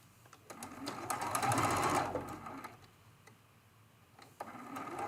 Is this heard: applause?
no